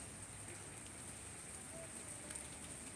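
Heavy rain falling steadily since the night, heard from a top-floor flat on a dark weekend day with wind, a dense continuous hiss with no clear voices.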